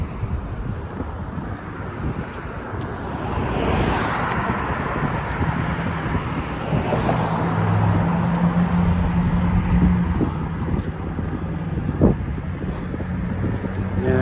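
Wind buffeting a microphone outdoors on a neighborhood walk near traffic, a continuous low rumbling roar that swells and eases, with faint hum and occasional clicks, no speech.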